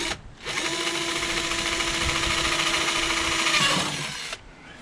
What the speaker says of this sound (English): we'll just drill a hole right in the side of this bucket.